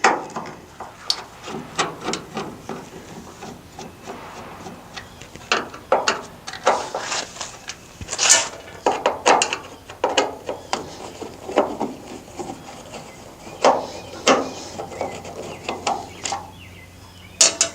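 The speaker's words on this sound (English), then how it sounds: "Remove these 2 Phillips screws." Phillips screws being worked loose from the tail light housing of a 1989 Chevy K1500 pickup, a run of close, scratchy clicks and ratcheting rubs in uneven bursts, with no talking.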